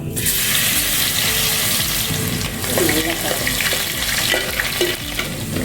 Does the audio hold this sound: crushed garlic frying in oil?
yes